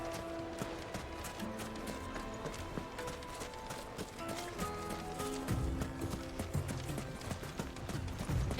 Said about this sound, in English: I love just the chocobos running